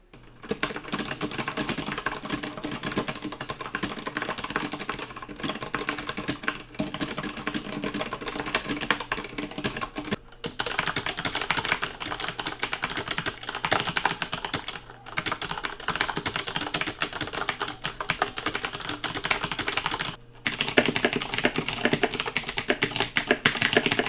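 Continuous typing on a Velocifire VM01 mechanical keyboard with Zorro Brown switches, brisk and close, a steady dense clatter of keystrokes with a few brief pauses between passages.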